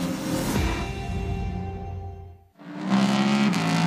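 A Toyota endurance prototype roars past at the Nürburgring during the six-hour World Endurance Championship race, its engine note swelling loud, dipping as it passes, then another car's engine rises straight after.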